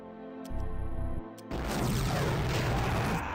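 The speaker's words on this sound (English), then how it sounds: "Mighty D cannon! I love the D cannon." Heavy D cannon fire in the 1999 strategy game Warhammer 40k Rites of War, a loud sustained blast of booming, crashing explosions that swells after a brief tonal whine and continues densely to the end.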